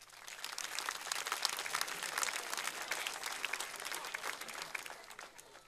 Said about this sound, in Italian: Un applauso per su tenore Padresu.